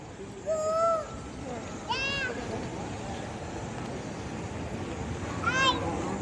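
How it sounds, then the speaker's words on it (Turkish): Three short, rising and falling bird calls ring out over a constant noisy background with faint voices. "Ay çok tatlı kuşlar varmış."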